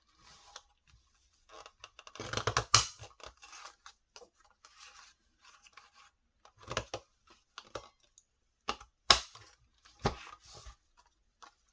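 Paper edges being trimmed after shaping with a doily punch, producing several short crisp snips and rustles in separate bursts with quiet gaps between, close by and fairly soft.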